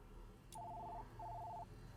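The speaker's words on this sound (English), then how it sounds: "Your phone's ringing." A phone rings twice in a video game, Duet Night Abyss. Each ring is a short trilling electronic burst, heard faintly over a low ambient hum.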